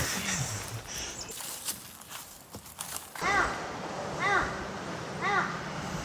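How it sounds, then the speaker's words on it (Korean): A bird gives three repeated mewing, cat-like calls at steady intervals over outdoor background noise on a mountain hiking trail, preceded by rustling and shuffling. "왜 새가 고양이 소리를 내는 걸까요?"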